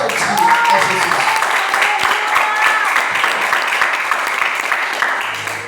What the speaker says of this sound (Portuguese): Desocupe as suas mãos e aplauda bem forte a Jesus.